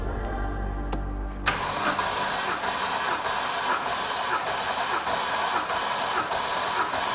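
A BMW 330i engine cranks over steadily with the clutch in during a compression test, a loud, even, rhythmic churn of the starter motor that kicks in after a brief quiet start and runs continuously without catching.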